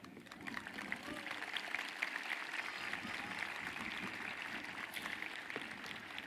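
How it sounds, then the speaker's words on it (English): Steady crowd applause fills an outdoor high school commencement as graduates and guests clap for their educators, a dense continuous patter of many hands, moderately distant and unbroken for several seconds. "Please take a moment and applaud our dedicated educators."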